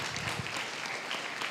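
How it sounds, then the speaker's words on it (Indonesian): Audience applause at a talk on economics, steady dense clapping from a crowd lasting the whole moment, fairly loud and continuous with no voices over it. "kita beri tepuk tangan seikhlasnya"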